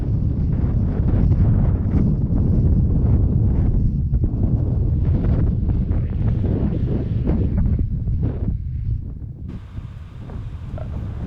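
Strong hurricane winds from Hurricane Kay roar and buffet continuously, with rushing gusts and flapping noise, loud and close throughout before easing slightly near the end.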